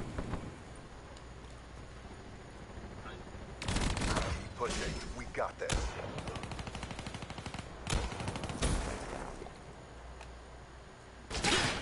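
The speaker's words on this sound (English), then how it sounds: "Hardened sentry ready to deploy. Sentry opening fire." A hardened sentry turret opens fire in Black Ops 3, loosing loud bursts of rapid automatic gunfire in repeated volleys, with gaps of quieter game ambience between them.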